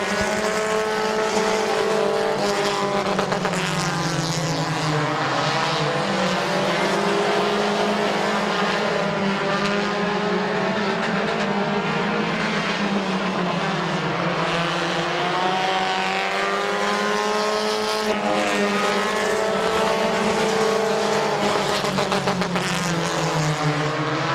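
Compact race cars at Midvale Speedway roar continuously as several engines pass and overlap, their pitch rising and falling through the laps; a loud, sustained wall of engine noise with no talk.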